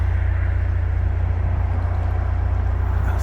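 Distant motorway traffic heard from a canal aqueduct, a continuous low rumble with a steady drone and no distinct passing vehicles.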